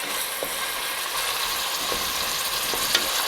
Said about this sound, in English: So we'll let this saute for maybe 2 minutes. Let's stir this around a little.